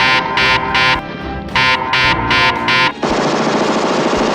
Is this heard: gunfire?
yes